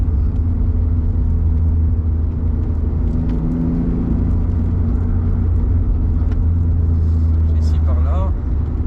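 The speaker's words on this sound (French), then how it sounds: "Et surtout la mécanique, la musique qui sort là d'échappement." Alfa Romeo Spider V6 3.0 24v (916 phase 2, 218 hp) on the road, with a steady, loud engine and exhaust drone under continuous cabin rumble while people talk over it.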